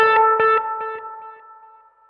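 One guitar note runs through a Boss RE-2 Space Echo pedal, giving a clear close attack followed by several evenly spaced echo repeats that gradually die away, with no other sounds.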